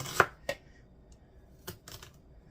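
A knife cuts chicken into thin slices on a board, giving a few sharp, isolated chops: two close together at the start, then a pause and two or three softer cuts, with no talking.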